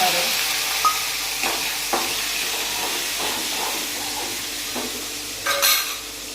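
Steady sizzling hiss of mustard seeds, cumin and asafoetida frying in hot oil, with a few soft clinks and scrapes of a utensil in the pan.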